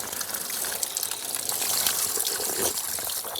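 Mineral spring water in Myhove, Ukraine, gushing and splashing steadily from a spring outlet, loud and close, a continuous flow with no voices.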